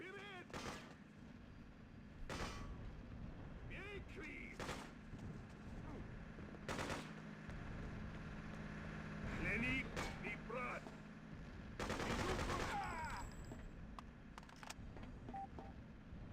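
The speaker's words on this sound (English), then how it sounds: "Machine gun segment!" Machine gun fire in the video game Freedom Fighters, sharp bursts of rapid shots scattered across the scene, with a dense sustained burst near the end, heard under a player's voice.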